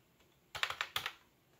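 A quick burst of about six sharp, close keystrokes clatters on a computer keyboard in a quiet room, then stops abruptly.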